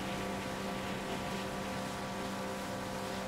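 A jet-powered boat engine from the Far Cry 5 video game roars steadily and continuously, a dense even whine and rush with a humming tone, close and unbroken.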